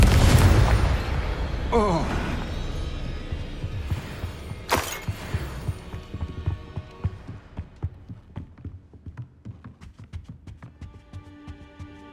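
In Hogwarts Legacy, a Confringo blasting curse explodes with a heavy boom and crackling burst, then a sharp second blast, before settling into a rhythmic patter of footsteps and softer clatter.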